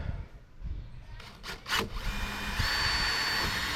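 A power drill bores a screw hole through fiberglass into the mahogany wood of a 1976 boat's bow hatch, a steady close whirring that rises near the middle and runs on continuously to the end.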